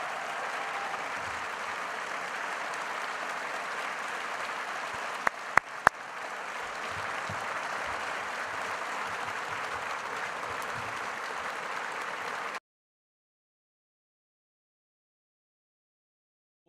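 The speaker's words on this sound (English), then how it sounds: "And let's give them a round of applause" An awards ceremony audience gives sustained, even applause for about twelve seconds, then it stops abruptly into silence.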